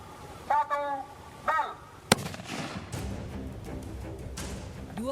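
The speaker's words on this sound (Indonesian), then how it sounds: "2 unit bom rakitan diledakkan oleh tim Gegana Satbrimopolda DIY di sebuah lahan terbuka" Two homemade bombs detonated by a police bomb squad in an open field: one sharp, loud blast that trails into a rumbling wash of noise, with people talking just before it.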